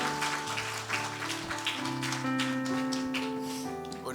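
A church congregation applauds during a Sunday morning worship service at a deacon appointment, a steady wash of hand claps under sustained organ or keyboard tones that continue throughout.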